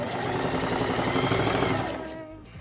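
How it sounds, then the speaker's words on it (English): Sewing machine stitching a pillow, a steady fast mechanical whirring and rattle of the needle running close up, then slowing and stopping near the end. "now you're ready to start sewing. All right, here we go."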